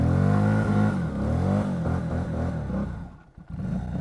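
A Lexmoto Vendetta 250cc motorcycle revs hard off road on uneven chalk, the engine note climbing and falling in close, loud strained bursts before briefly dropping away.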